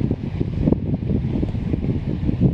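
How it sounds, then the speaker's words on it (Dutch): Strong wind blows across the microphone on the coast at Rockanje, making a continuous low rumble and buffeting that swells and dips without pause, with no voices. "deze wind is redelijk hard"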